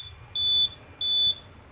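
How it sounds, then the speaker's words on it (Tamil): A DIY Arduino stick proximity buzzer gives two short, high-pitched electronic beeps at an even pace, close and clear over a quiet background. "அதான் கேட்கும் பாருங்க உங்களுக்கு பீப் சவுண்டு."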